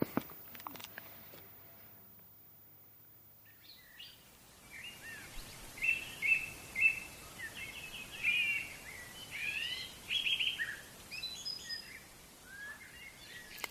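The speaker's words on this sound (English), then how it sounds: "Inevitably, it's the blackbirds that kick things off." Blackbirds sing at dawn, rising out of near silence, a series of fluting, warbling phrases repeating at a moderate distance, with some fainter calls in the background.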